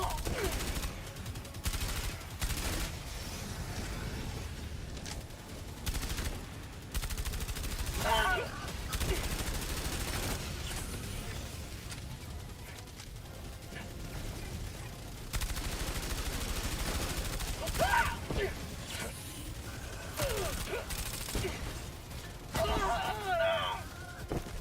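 Rapid weapon fire in the video game Helldivers 2, repeated bursts and fusillades across the stretch with impacts and crashes, someone talking over the shooting at times.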